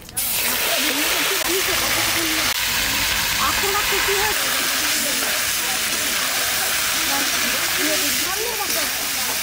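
Mutton hits hot oil spiced with bay leaf, whole garam masala and cumin, setting off a loud, continuous hissing sizzle that fills the whole stretch close up, with faint voices underneath.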